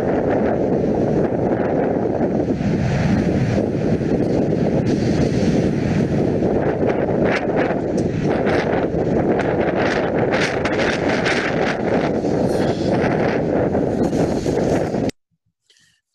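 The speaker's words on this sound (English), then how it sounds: "So that's one of the sort of nice stormy days that we surf in the North Sea." Stormy wind and heavy waves at a North Sea surf spot, a loud continuous roar of gusts buffeting the microphone over crashing surf, cutting off abruptly near the end.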